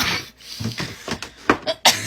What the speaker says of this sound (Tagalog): inuubo ako.